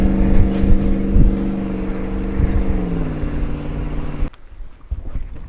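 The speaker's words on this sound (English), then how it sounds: "V8 Land Cruiser." A V8 Toyota Land Cruiser engine rumbles loudly nearby with a steady low drone that shifts down in pitch as it passes, then cuts away abruptly, buffeted by wind noise.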